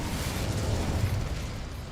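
A whooshing, rumbling burst of flame from the Incendio fire spell cast in Hogwarts Legacy, a dense steady roar with low rumble lasting about two seconds and no talk.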